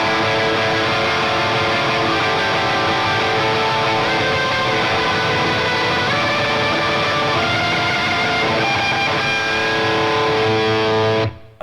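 A distorted electric guitar plays a Bocchi the Rock solo, moving from steady picked notes into rapid tremolo picking, dense and loud throughout until it stops abruptly.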